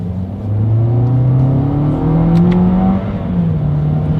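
A 2021 Toyota Corolla with a CVT accelerating on a straightaway, its engine a smooth rising whine that swells, holds steady, then eases off slightly, loud and close with no talking.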